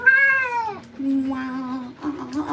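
A Ragdoll cat lets out a long, drawn meow followed by lower, wavering yowls during a bath at a grooming session, close and loud with no clear speech.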